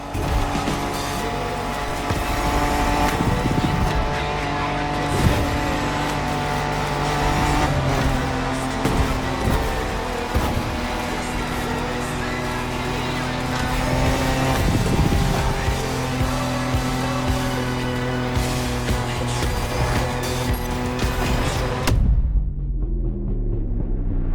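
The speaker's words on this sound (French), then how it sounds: "La conduite en off-road vous donne l'occasion de vous frayer votre propre chemin et d'explorer les vastes étendues." Off-road vehicles such as pickups and quads in the racing game The Crew Motorfest, with loud steady engine drone, rising and falling revs and tire squeal throughout, ending abruptly into near silence.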